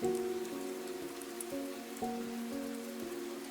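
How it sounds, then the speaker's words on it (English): Steady rain falls in a town square as a soft hiss, blended with gentle sustained tones and no voices. "The market square looked different in the rain."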